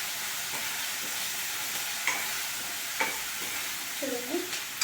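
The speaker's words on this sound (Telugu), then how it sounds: "అల్లం వెల్లుల్లి పేస్ట్ పచ్చి వాసన పోయే వరకు ఫ్రై చేసుకోవాలి" Ginger garlic paste frying in a pan, a soft steady sizzle with a few light stirring scrapes and taps, faint and close, without talking.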